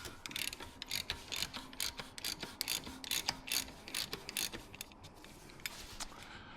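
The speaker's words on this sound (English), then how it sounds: "And I got myself a 27mm to undo this." Rapid ratchet clicks in repeated bursts as a 27mm socket undoes the oil filter cap on a 2025 Kia Telluride 3.8L GDI engine, close and crisp with short pauses between strokes.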